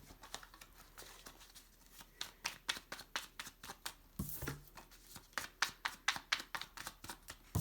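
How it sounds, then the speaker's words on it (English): A deck of cards being shuffled again and again, with rapid crisp riffling bursts in a steady rhythm, close up and fairly quiet, no talking. "Many people do like the sound of the shuffles."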